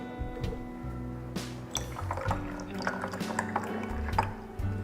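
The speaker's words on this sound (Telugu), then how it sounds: "కిన్లే వాటర్లో కెంగన్ వాటర్ యాడ్ చేశాను" Kangen water being poured into a bottle of Kinley bottled water, with soft trickling, dripping and filling sounds over a few seconds, fairly close and moderately quiet, with no speech.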